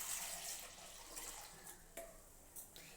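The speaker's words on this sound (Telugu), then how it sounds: "నేనైతే ఇక్కడ ఇంకా కొంచెం వాటర్ అయితే యాడ్ చేస్తున్నానండి." Water is poured into a pot of pappu vegetable sambar, a soft continuous splashing with faint clinks, close but quiet and with no talking.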